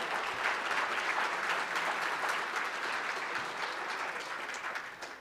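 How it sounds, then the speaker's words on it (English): Guests at a business appreciation breakfast give the catering staff a steady round of applause. The dense clapping holds close and full, then tapers slightly toward the end. "please just get a big round of applause for our catering staff"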